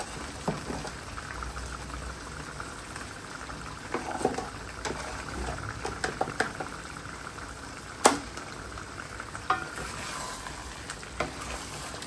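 Chicken sautéing and frying in a pan with salt, for a sweet-style roast cooked at home; a soft steady sizzle with occasional clinks and stirring scrapes.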